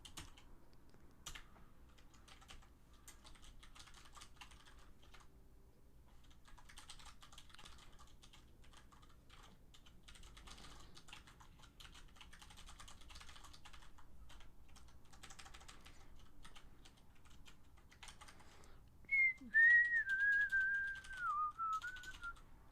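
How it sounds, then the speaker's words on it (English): Steady typing on a computer keyboard, a quiet, continuous patter of key clicks throughout, with a brief whistled tune near the end. "Something wrong with my M key on the keyboard."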